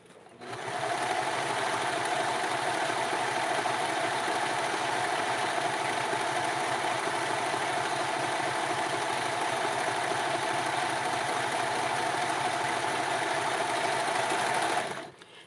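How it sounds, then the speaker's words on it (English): A serger overlock sewing machine stitches fabric pieces for a Barbie doll pattern, running as one steady, loud, continuous whir with no break from start to finish and no talking. "So I cut these pieces and I'm going to use a serger"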